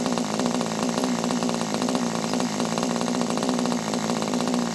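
A Kyosho Nitro Tracker RC car's small nitro engine idles low and steady, a continuous buzzing drone held at an even level close to the mic throughout, with no talk over it.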